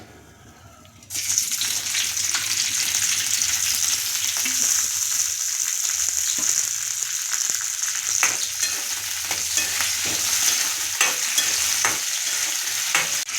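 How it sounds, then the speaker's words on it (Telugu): Oil sizzles and crackles steadily in a hot pan after a sudden loud onset, a close continuous frying hiss with faint clinks, no voices. "ఇప్పుడు ఆయిల్ కొద్దిగా పోసుకుందామండి."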